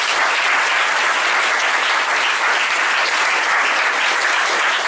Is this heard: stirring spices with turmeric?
no